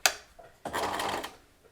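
A sewing machine stitches back around the seams of an embroidered fabric pincushion, giving a short mechanical click and then a close, steady whirring run of about half a second.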